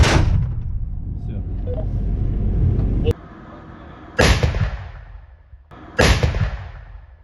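A Russian Nona-SVK self-propelled artillery gun fires with a deep, booming blast that rumbles away, followed by two sharp, loud cracks a few seconds apart.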